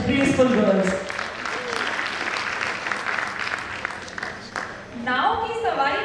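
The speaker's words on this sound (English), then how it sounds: "a huge round of applause for such graceful girls" An audience at a school annual function claps loudly and steadily for a girls' dance performance, a dense sustained burst of applause with some voices and cheering near the end.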